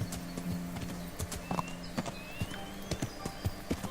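Horse hooves clop in the Kingdom Come: Deliverance video game, a regular rhythm of sharp hoofbeats close by over a low hum, with a faint whinny-like tone in the background.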